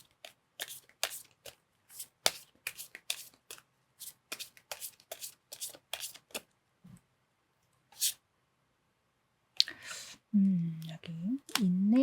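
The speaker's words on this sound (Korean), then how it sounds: "자, 이제 오라클 카드 뽑아 보도록 하겠습니다." Oracle cards are shuffled during a tarot reading, giving bursts of crisp riffling and clicking taps spread across the clip, followed at the end by a brief voice.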